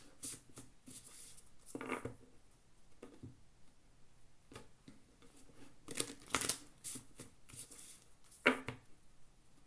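Tarot cards are handled and shuffled in soft, faint bursts of papery riffling and light taps, close by, with quiet gaps between them.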